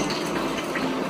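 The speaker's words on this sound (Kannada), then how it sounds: "ಹುಣಸೆ ಹಣ್ಣಿನ ರಸ ಹಾಕ್ತಾ ಇದ್ದೇವೆ" Tamarind juice poured into a bowl: a brief, close, steady trickling splash of liquid with no other sounds.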